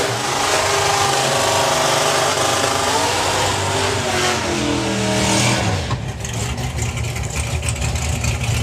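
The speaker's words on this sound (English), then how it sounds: "Just purging the nitrous system there." A Toyota Supra drag car at a drag racing meet purges its nitrous system, a loud steady hiss over a rumbling engine that shifts and drops in pitch partway through.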